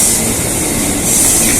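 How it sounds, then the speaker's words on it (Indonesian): A commuter train pulls out of a Jakarta station as a loud, steady broadband rush with hissing air and rumbling wheels fills the platform, the noise rising slightly toward the end. "kereta ini akan berangkat"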